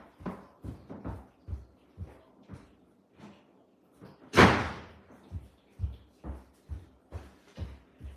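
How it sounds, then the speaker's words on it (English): A single loud door closing in a home, one sharp slam midway through, set among repeated softer thumps and knocks. "I'm going to close the door."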